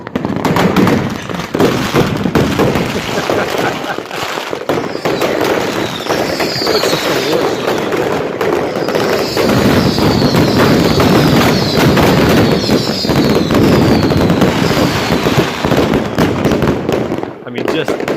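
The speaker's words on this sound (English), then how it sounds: "This is called Iceland New Year's Eve fireworks." Iceland New Year's Eve fireworks crackle and pop continuously in dense overlapping bursts, loud and close, with a steady roar of distant explosions and occasional voices underneath.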